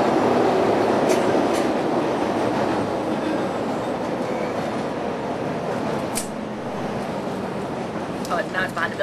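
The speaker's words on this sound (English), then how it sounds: "We're just waiting for the train." A train rumbles steadily through a Chicago metro station with a broad roar, a few sharp clicks and a brief squeal near the end, with voices faintly underneath.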